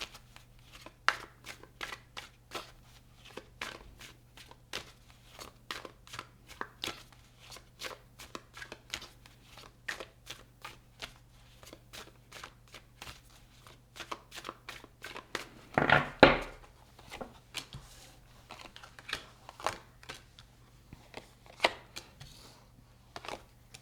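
Tarot cards shuffled for a reading, a rapid run of crisp riffling clicks that continues steadily throughout, with a louder burst of flutter partway through and no talking.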